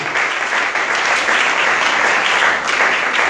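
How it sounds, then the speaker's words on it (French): A church congregation at a French and Lingala worship service breaks into loud, steady applause that holds unbroken from start to finish without voices. "Acclame le Seigneur. bekela koyesu maboko makasi"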